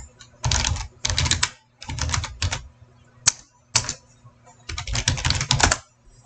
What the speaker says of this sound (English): I'm using my old wireless keyboard that I have, so hopefully you just like the clickiness of it.